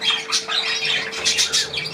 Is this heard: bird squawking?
yes